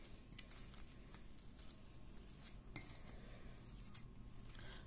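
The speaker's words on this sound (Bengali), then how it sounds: "রুটিটা মিশিয়ে নিব।" Bread is mashed and mixed with a little ghee for fishing bait, giving soft squishing and light scraping against a bowl, quiet and close with a few sharper clinks.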